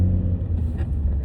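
Low steady rumble of a car engine amid road traffic, continuous and fairly close, with no voices.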